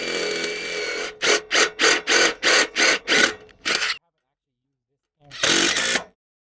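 A power drill drives blunt-tipped stubby screws into a wooden baseboard on a high tunnel frame, giving eight quick pulsing whirs in a row, then a pause and one longer burst, close and loud.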